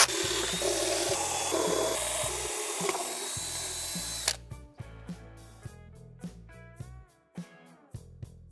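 Power drill runs continuously for about four seconds while boring holes in a wooden template for a telescope pier. Then come a few short drill bursts and clacks, with steady background music throughout.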